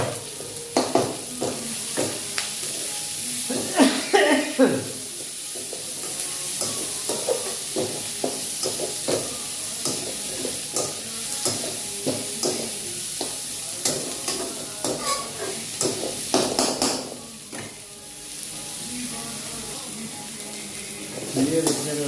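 Onion and green chili masala sizzles steadily in a hot pan while a spoon stirs it in repeated scraping strokes, with a brief pause in the frying near the end.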